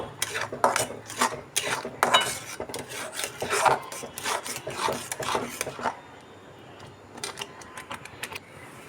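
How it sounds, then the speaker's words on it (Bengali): Semolina and sugar stirred in a pan for patishapta pitha filling, a spoon scraping and rasping against the metal in a steady run of strokes, close and fairly loud, then quieter scrapes near the end. "চিনিটা দিয়ে আমি খুব সুজিটাকে ভালো করে নেড়ে চেড়ে"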